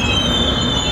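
Train brakes squealing as a two-car Finnish passenger train pulls in, a steady high metallic screech with rumbling wheels beneath, loud and close.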